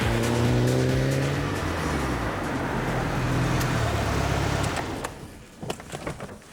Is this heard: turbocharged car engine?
yes